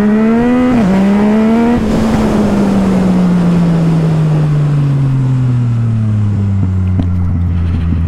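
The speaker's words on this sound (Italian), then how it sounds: "Il sound che state sentendo su questa moto è il sound dello scarico Akrapovic completo in titanio e carbonio senza DB killer" A Yamaha MT-09 SP motorcycle with a full Akrapovic titanium-carbon exhaust and no dB killer revs hard, then its loud engine note slides steadily downward as it decelerates, with a brief blip early on.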